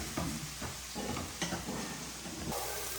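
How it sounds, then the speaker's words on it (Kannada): Onions and okra frying in a pan, with a continuous sizzle broken by several rough scraping stir strokes, close and moderately loud. "ಈಗ ನೀರುಳ್ಳಿ ಸ್ವಲ್ಪ ಚೆನ್ನಾಗಿ ಫ್ರೈ ಆಗಲಿ. ಇದು ಈಗ ಬೆಂಡೆಗೆ ಫ್ರೈ ಆಗ್ತಾ ಉಂಟು."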